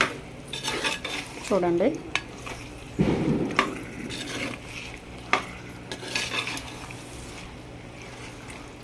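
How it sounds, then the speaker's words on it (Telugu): Marinated chicken being stirred into onions in a clay pot for chicken curry, with scraping and clinking of a spoon against the pot and a low sizzle underneath; a voice speaks briefly. "దాన్ని తీసుకొచ్చి ఈ ఉల్లిపాయల్లో వేసేయాలండి. దీన్ని అటు ఇటు కలుపుకోవాలి"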